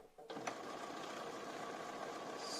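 A Bernina B590 sewing machine stitches a quilt-as-you-go block, a quiet, steady mechanical whir running continuously after a soft start, with no talking.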